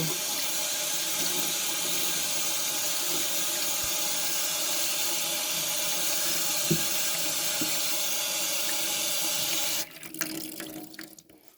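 A kitchen tap runs hot water in a steady, loud, continuous rush that cuts off abruptly near the end, leaving a few faint drips and clatters.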